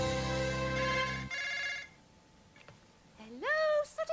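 A telephone rings in an indoor comedy scene, a steady electronic trill held for about a second, then a quieter stretch before a rising, whooping electronic tone. Nobody speaks.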